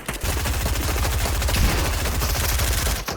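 Rapid automatic gunfire in a video game rattles continuously at close range and high volume, dense bursts running almost the whole time with no talk over it.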